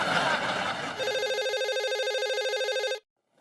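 Landline telephone rings electronically, a steady warbling trill lasting about two seconds after a burst of noisy background chatter, then cuts off abruptly into silence.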